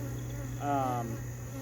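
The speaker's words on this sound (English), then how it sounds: "You know what doesn't help the bees get calmer? When I shush them." A buzzing insect drones briefly and close, a honey bee during a mid-October hive inspection, rising over a steady low hum and background noise.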